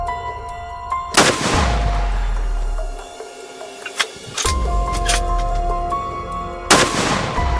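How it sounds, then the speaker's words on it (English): A rifle fires while hunting a buck deer in Florida. Three loud, sharp reports ring out a few seconds apart, each decaying into a rolling echo over a steady tonal background. "This shot right here goes straight to the heart."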